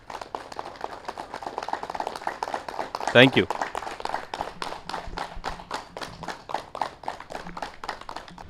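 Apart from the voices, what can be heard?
audience clapping after yoga meditation session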